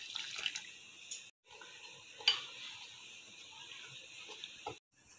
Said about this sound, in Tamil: தண்ணி ஊற்றி கலந்துக்கலாம்.